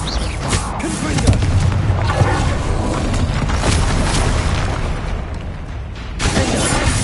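Confringo spell blasts in Hogwarts Legacy, booming magical explosions and crackling impacts stacked in quick succession, loud and dense with a voice speaking through the fight.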